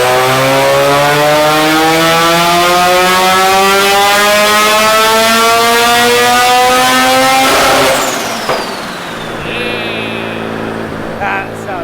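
A Mazda RX7 rotary engine revs hard and loud up close, its pitch climbing steadily for several seconds before dropping off to a lower idle-like drone, with faint voices near the end.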